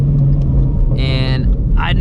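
A 700 hp Procharged Shelby GT350 pulls hard in second gear, its engine roaring loud and close in a steady, unbroken blast, with a brief rising whine near the end.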